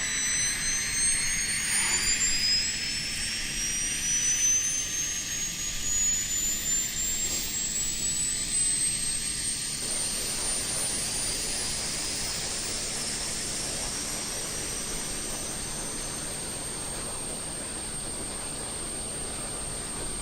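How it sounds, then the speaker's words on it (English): The auxiliary power unit of a Flight Sim Studios E190 airliner runs in Microsoft Flight Simulator, a loud steady jet whine with a rising high tone that keeps going throughout. "It's gonna get loud for the APU."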